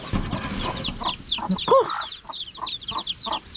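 Chicks clucking and peeping repeatedly near the camera as they eat their feed, sharp chirps in quick irregular bursts, with one short exclamation from a person.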